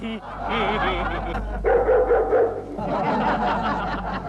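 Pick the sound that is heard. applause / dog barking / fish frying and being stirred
dog barking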